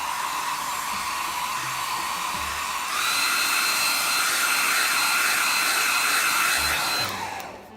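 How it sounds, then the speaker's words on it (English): An airbrush sprays Mission Models clear coat over decals in a steady, loud hissing rush that grows stronger partway through, then cuts off at the end. "You can't see the airbrush, but I'm just clouding it on."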